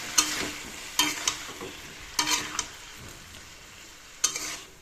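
Vegetables cook in a hot pan with a soft continuous sizzle, while a utensil scrapes and stirs in short bursts about once a second, close and without talk.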